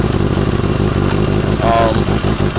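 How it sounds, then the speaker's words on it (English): A 1986 Yamaha Radian XY600S motorcycle engine idles steadily and loud with a persistent mechanical knocking clatter throughout, a brief higher whine rising near the middle. "I'm not sure if that knocking is a cam tensioner, I guess that's what it's called, or in the clutch"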